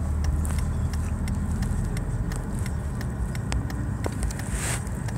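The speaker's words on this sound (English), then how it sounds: "now we are waiting for these cars to go by, make their safe turn" Cars pass by on a busy road at a turn, with a steady broadband traffic rumble, engine hum and tire noise, and a brief louder swell near the end as one vehicle goes by close.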